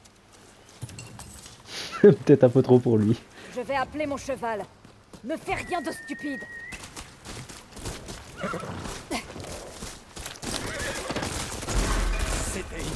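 A horse in the video game Ghost of Yotei answers a call with several loud, close whinnies and neighs, followed by hoof clip-clops and rustling, with a short spoken line in French between the calls.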